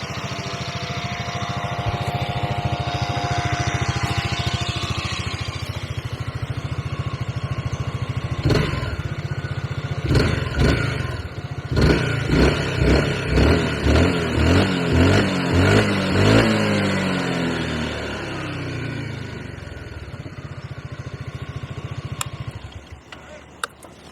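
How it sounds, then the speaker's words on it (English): A 2021 Honda Forza 350 scooter engine idles nearby, then is blipped through a series of sharp revs that rise and fall in quick succession before settling back and cutting off. "this is the 2021 Honda Forza 350"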